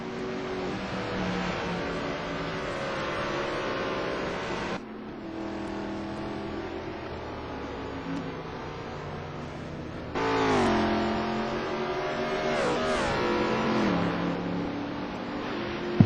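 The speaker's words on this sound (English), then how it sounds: "I can see here Mike Simeon moving out of the chicane" Race cars in a touring car race at Magny Cours exit a chicane one after another, engines revving and shifting through rising and falling tones, some passes fading out while another car grows louder at moderate distance.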